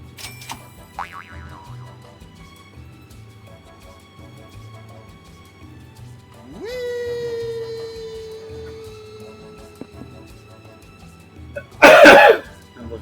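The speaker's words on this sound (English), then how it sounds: "Another cough coming." A single short, harsh cough bursts out near the end, loud and close, after quieter stretches of a cartoonish boing and other synthetic sound effects.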